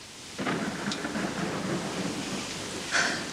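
Steady rain with a low rumble of thunder underneath, broadband and continuous, with a brief brighter splash near the end.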